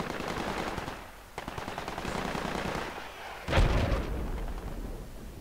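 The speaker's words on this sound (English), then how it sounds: "I hear weapons fire on my south" Sustained automatic weapons fire from the Project Reality video game, with rapid bursts and scattered gunshots running throughout and a louder, closer burst near the end.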